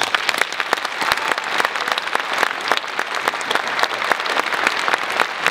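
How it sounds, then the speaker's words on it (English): Crowd applause follows a student band concert at a regional school music event, a crisp, dense clatter of many hands heard alone at moderate loudness, steady throughout. "They deserve another round of applause."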